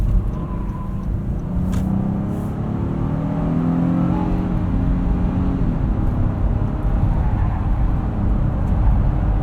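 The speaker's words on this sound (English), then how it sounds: "We'll throw it into sport mode for this entrance ramp here." A 2019 Honda Passport Elite AWD with a 3.5-liter V6, in sport mode, accelerating up an entrance ramp, its engine note rising steadily under a constant road and cabin rumble, heard from inside, with no talking.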